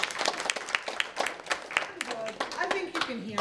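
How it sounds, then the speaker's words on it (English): Applause for Karen at a Mashpee Women's Club meeting, a room of people clapping in a quick, fairly close patter, with voices talking over it toward the end. "I want a big round of applause for her too"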